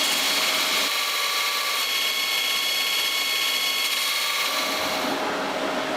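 Steel blacksmithing punch ground on a belt grinder, a loud continuous abrasive whine and hiss of belt on metal that runs steadily and eases off near the end.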